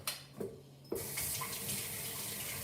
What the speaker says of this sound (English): And then you want to wash it in cold water.